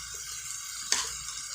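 Tomato and onion sautéing in a pan for dried sardine thokku give a soft, steady sizzle, with a single brief clatter just before the midpoint, close and fairly quiet.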